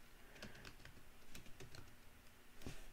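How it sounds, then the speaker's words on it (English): Quiet, quick clicking of a computer keyboard as a search term is typed, a short irregular run of keystrokes heard close up with no talking. "Type that in, Jeff Bezos."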